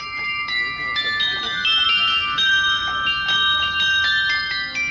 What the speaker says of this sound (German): Unter Glockengeläut pilgern die Winzer Richtung Papstpalast und verteilen dabei die ersten Trauben.